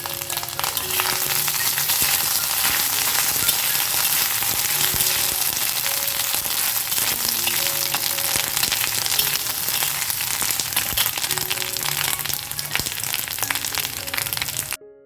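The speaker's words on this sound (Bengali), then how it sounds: "সর্ষেটা যখন ফাটতে শুরু করেছে" Mustard seeds crackle and pop as they fry in hot oil in a pan for a Bengali bitter gourd curry, giving a loud, steady sizzle with scattered small pops throughout, no voices.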